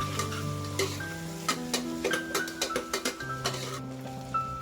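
Vegetables sautéing in a pan for a Kerala-style vegetable stew, a constant sizzle broken by repeated clinks and scrapes of a spoon stirring against the pan.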